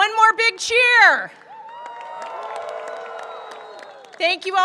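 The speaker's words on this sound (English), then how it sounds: "One more big cheer." Convocation audience at a new student event cheering and applauding, loud at first, then a sustained crowd roar in the middle, swelling again at the end with voices whooping and shouting over it.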